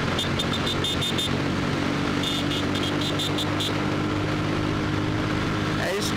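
A motorcycle engine hums steadily while riding through Poços de Caldas, a loud continuous drone with wind noise throughout and brief high-pitched beeping near the start.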